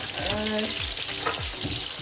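Jackfruit pieces deep-frying in oil, a steady loud sizzle and crackle with faint background tones, no talk.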